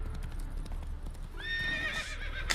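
Horse hooves clip-clopping in the video game The Witcher 3, with the horse Roach in a foggy setting: light hoofbeats under a low rumble, followed by a rising whinny near the end.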